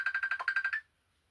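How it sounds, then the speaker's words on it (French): A tablet rings for an incoming call with a quick, clean electronic trill of about ten rapid pulses. It is faint and close, then stops abruptly. "C'est ma tablette qui sonne."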